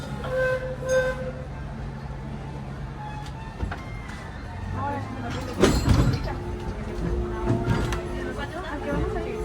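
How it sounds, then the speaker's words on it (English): The Disneyland Railroad train at Disneyland rumbling along the rails with clattering wheels and a low engine drone, while passengers talk and chatter nearby. "welcome aboard the Disneyland Railroad"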